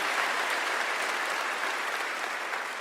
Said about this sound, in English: Little girls, y'all can clap.